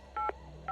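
A landline telephone keypad sounds a few quick, clean dialing tones in a row, each short and close, with a brief gap before the last one starts.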